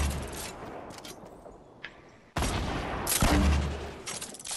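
Bursts of rapid gunfire in a Fortnite match, a sparse stretch of shots giving way to a loud, dense volley that keeps going to the end.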